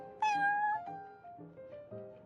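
A cat in Genshin Impact gives a single drawn-out meow that slides downward, followed by a few shorter, softer mews, close and clear with no talking.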